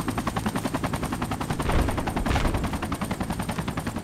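Rapid automatic gunfire in the military shooter Battlefield 2 Project Reality, a loud, dense, steady stream of shots with a brief heavier burst midway.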